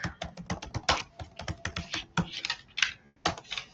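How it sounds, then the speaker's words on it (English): Typing on a computer keyboard, a close, uneven run of sharp key clicks in quick bursts with brief pauses, heard alone. "I'm just typing down my name."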